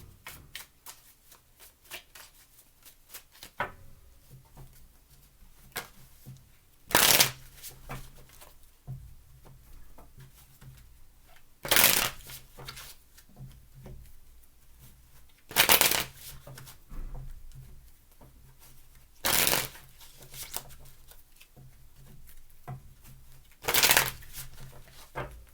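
Tarot cards are handled and shuffled close by, with five short loud riffle bursts spaced a few seconds apart and soft card rustling and tapping between them.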